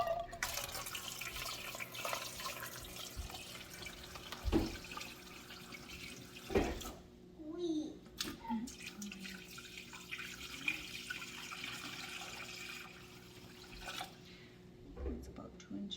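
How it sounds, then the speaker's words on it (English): Water runs and splashes into a metal pot in uneven bursts, with clinks and drips between pours and a quiet background hum. "And then you put like 2 inches of water in the bottom of the pressure cooker."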